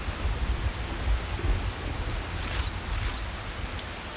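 Steady rain falling during a storm in the video game Skyrim, a dense, constant hiss with low rumbling underneath and no voices.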